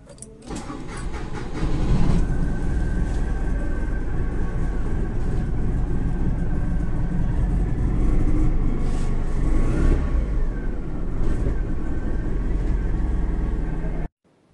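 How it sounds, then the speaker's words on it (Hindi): A 2019 Mahindra Supro VX CNG minivan engine starting after a brief crank, then settling into a steady close idle rumble that holds until it cuts off abruptly at the end. "आइए गाड़ी को ऑन करके देखते हैं"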